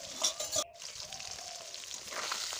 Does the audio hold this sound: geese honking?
no